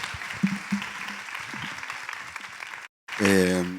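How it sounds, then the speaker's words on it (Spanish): Audience applause at a live interfaith talk on Genesis, a broad wash of clapping under a speaking voice, cut by a brief silence before a louder tonal passage takes over. "Un aplauso."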